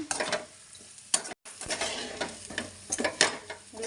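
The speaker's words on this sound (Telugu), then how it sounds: "ఇలా బాగా సిమ్లో పెట్టుకొని మగ్గనిద్దాము ఫ్రై అయ్యేదాకా" Chicken pieces frying in a pan for biryani, with an even sizzle under repeated clinks and scrapes of a metal spoon against the pan, close and with no talking.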